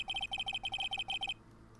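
A phone rings in the Ace Attorney video game, a rapid electronic trill in repeated short bursts for over a second, loud and alone, then cutting off to quiet.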